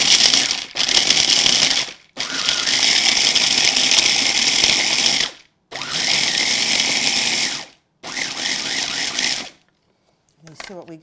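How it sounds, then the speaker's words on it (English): Raw unsalted almonds are ground in a small food processor, its motor whirring loudly in long bursts broken by brief pauses, ending with a short rattle. "So you put them in a little processor"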